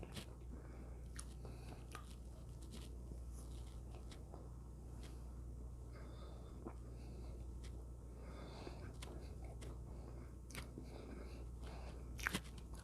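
Crunchy freeze-dried hamburger being bitten and chewed close up, a quiet series of crisp crunches and soft chewing sounds over a low steady background hum.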